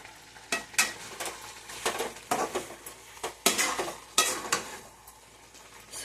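Potatoes and cluster beans stir-frying in a pan, with a spatula stirring and scraping against the metal in irregular bursts over a soft sizzle, close and fairly loud.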